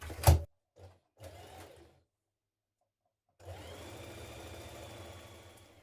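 Sewing machine stitching a sleeve seam on a 1970s-style wrap dress: a few short motor bursts, a pause, then a steady close hum of continuous stitching with no talk.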